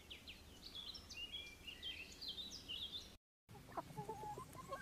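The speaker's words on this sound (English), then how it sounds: "The hens are sitting on their eggs." Hens cluck and call around a farmyard in a steady, moderately distant stream of short bird calls and chatter, briefly cut by a moment of silence before the clucking resumes.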